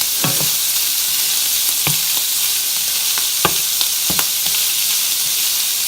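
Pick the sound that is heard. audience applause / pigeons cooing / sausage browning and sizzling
sausage browning and sizzling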